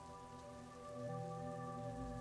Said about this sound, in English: It was raining out.